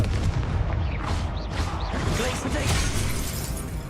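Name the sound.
Confringo fire blast spell in Hogwarts Legacy video game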